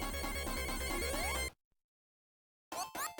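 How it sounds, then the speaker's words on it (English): Sonic 1 drowning countdown music from the underwater level, a tense rising synthesized jingle that cuts off abruptly into silence before a short burst of game sound returns. "Most of us are scarred for life from the drowning countdown."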